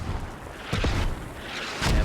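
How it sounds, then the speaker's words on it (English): Mortar shells landing in the video game Squad: a couple of heavy, muffled booms with rumbling low-end tails, one near the middle and another at the end, over a constant noisy battlefield background. "And Mortar's coming down, taking out Alpanex"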